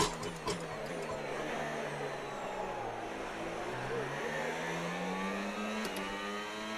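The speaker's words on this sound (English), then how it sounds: "You can hear the crowds and everything and the other cars." Race cars run at Yas Marina in a racing game, with an engine whining steadily close by, its pitch sliding up and down under a broad wash of background noise that may be a crowd.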